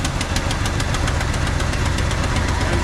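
A 1986 Chevrolet C-10 pickup's carburetted engine running right after a restart, a steady loud close rumble with rapid even knocking pulses, no voices.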